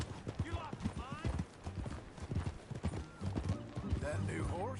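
Rhythmic clip-clop of horse hooves in the Western video game Red Dead Redemption 2, steady and fairly near under ongoing character dialogue, with a brief horse whinny.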